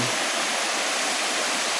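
Nalalata Falls in Bula, Camarines Sur, Philippines, pours in a constant, loud, hissing roar of falling water, steady and close with no other sound breaking through.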